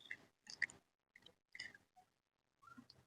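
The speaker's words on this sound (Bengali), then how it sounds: "ঠান্ডা ঠান্ডা শীতে গরম গরম মোমো খেয়ে দেখি" Close, quiet chewing of homemade momo, a hot evening snack, with soft squishy bites in several short bursts separated by brief pauses, no talking.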